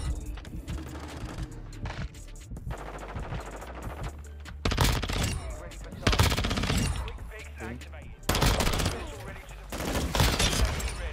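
Rapid bursts of automatic gunfire from Call of Duty: Modern Warfare 2 multiplayer, dense fusillades broken by brief pauses, loud and close, with a player's voice talking intermittently over the shooting.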